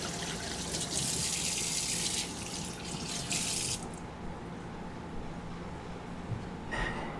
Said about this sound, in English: Take this over to the sink. Rinse off our crabby hands.